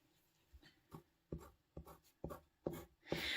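Soft, scratchy strokes of a Derwent Drawing colored pencil on paper, repeating in a steady rhythm of short bursts, close and quiet.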